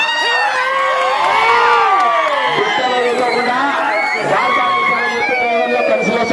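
A large crowd at an outdoor village prize announcement cheers and shouts loudly and continuously, with children's whoops and overlapping voices filling the scene.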